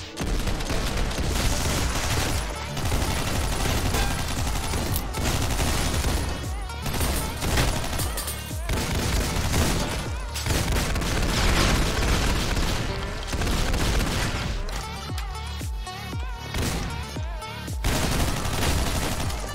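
Constant loud gunfire fills OTXO, a top-down shooter with roguelite runs, as dense volleys of shots and booms go on almost nonstop over driving game music, with brief gaps between bursts.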